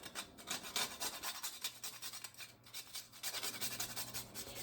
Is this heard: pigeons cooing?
no